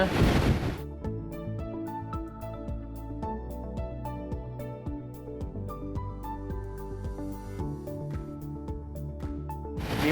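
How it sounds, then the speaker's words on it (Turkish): Engines of a Prestige X70 motor yacht underway at sea rise toward 1500 rpm: a steady, loud, tonal drone with shifting pitch, mixed with rushing wind and water noise. "1500 devire çıkıyoruz şimdi"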